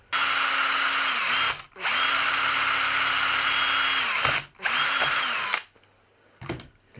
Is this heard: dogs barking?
no